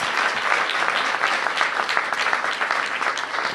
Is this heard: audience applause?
yes